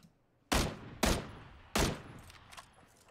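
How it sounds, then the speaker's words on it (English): Three sharp, loud gunshots ring out in PlayerUnknown's Battlegrounds, spaced about half a second apart, followed by fainter distant shots trailing off. "There's someone else shooting me."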